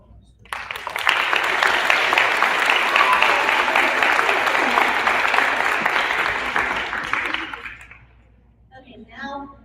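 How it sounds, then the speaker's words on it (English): A room of people at a 5th grade school awards assembly breaks into applause, a dense wash of clapping that swells quickly, holds steady for several seconds, then dies away, followed by a brief voice. "Let's do a round of applause."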